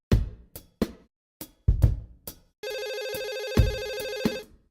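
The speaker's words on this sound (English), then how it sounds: "And then all of a sudden, I get a phone call." A telephone rings loudly and close for about two seconds, a steady electronic trill that follows a few sharp thuds, with no talking.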